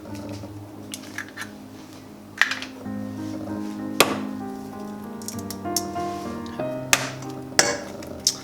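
Eggs go into banana bread batter in a bowl, with sharp cracks and knocks against the bowl, soft wet plops and clinks of utensils spaced irregularly over a quiet kitchen background.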